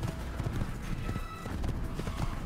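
Horse hooves clip-clop steadily in the Assassin's Creed video game, a continuous rhythmic trot at moderate loudness with no talking over it.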